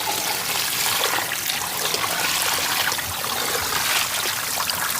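Water drains from freshly boiled noodles during village cooking of Hakka chicken noodles, a steady close rushing trickle that continues without a break and with no talk.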